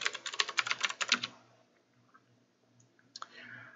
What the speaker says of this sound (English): Type in your username and password